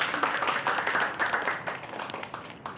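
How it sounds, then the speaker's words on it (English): An audience at a cooking competition breaks into applause the moment time is called, dense clapping from many hands sustained throughout and gradually easing off toward the end. "Let's give that round of applause, come on!"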